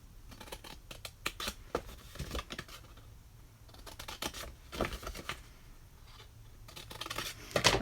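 Scissors snip through Halloween milk box cardstock up to the score lines, a quiet run of irregular close crunching cuts and paper rustles, with no talking.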